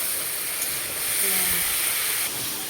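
Meat sizzling as it is sautéed in a hot pan for a home-style curry, a steady close hiss that swells slightly midway and holds without pause.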